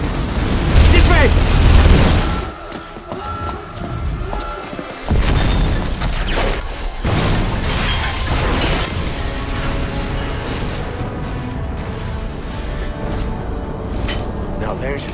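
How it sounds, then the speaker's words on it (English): A facility explodes in The Saboteur video game: a loud, deep booming blast with heavy rumble opens the sequence, then a second burst follows, and crashing, debris-laden noise continues to the end. "This facility will not survive the explosion."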